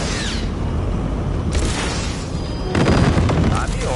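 Rusty buckets are shot in a video game, loud booming shots with a heavier blast near the end, mixed with game noise and talking.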